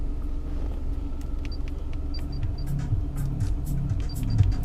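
A car just back from the mechanic after its jammed gears were fixed, driving smoothly with a steady low engine and road rumble inside the cabin, plus a few faint clicks and ticks.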